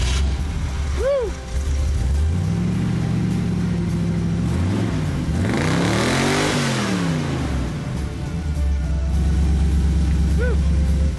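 A tinkered car's engine revving under the hood, its pitch sweeping up and back down in one long rise and fall, loud and close, with voices around it.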